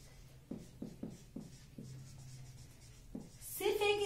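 Chalk taps and scratches on a board during a Class 10 biology lesson, several short strokes in quick succession, faint and close, with a teacher speaking at the end.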